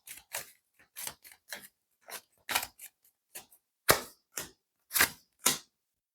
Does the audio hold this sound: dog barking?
no